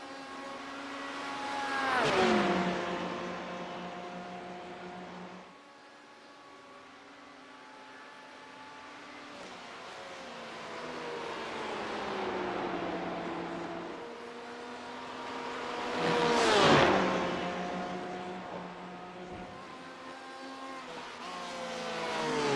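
Race cars lapping at Le Mans in an endurance racing game, engines whining at high pitch and swelling loudly as cars sweep past twice, with a steady drone between passes.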